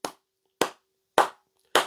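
Four sharp hand claps ring out one by one, evenly spaced about half a second apart, each crisp and close with silence between.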